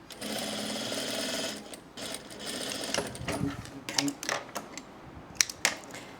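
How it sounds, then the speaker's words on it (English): A sewing machine understitches a seam allowance to bias tape, running in fast rhythmic bursts close by, pausing, then stopping and starting with short stitching runs and fabric handling clicks. "Now I'm just going to understitch the seam allowance to the bias tape"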